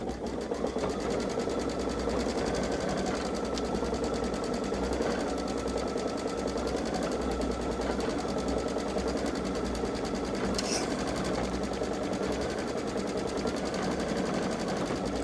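A Babylock Solaris Vision sewing machine runs continuously while quilting a turtle seascape panel, its motor humming in a close, steady, rapid rhythm with one brief higher click partway through.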